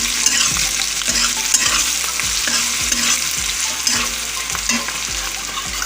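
Chicken for chilli chicken sizzles loudly in a pan as it is stirred and browned with chilli powder, a steady frying hiss broken by regular scraping strokes of a spatula, with no voices.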